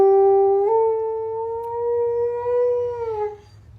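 A husky dog lets out one long, sustained howl that rises slightly in pitch, holds, then tapers off, close and loud indoors with no talking.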